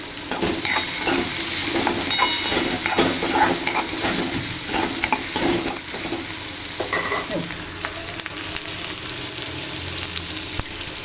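Onion frying in a pan with a pinch of asafoetida for a leafy vegetable dish, giving a loud close sizzle with repeated spoon stirring and scraping that eases slightly in the second half.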